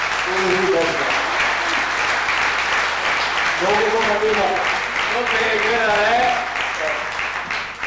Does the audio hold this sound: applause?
yes